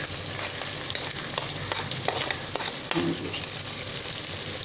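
Taro pieces fry with turmeric and salt in a loud, continuous sizzle, with frequent scraping and tapping as they are stirred around the pan.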